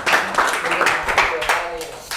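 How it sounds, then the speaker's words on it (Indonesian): Audience clapping after a group presentation in a teacher-training exam session, a short dense burst of applause close by with voices mixed in. "Oke, beri aplaus."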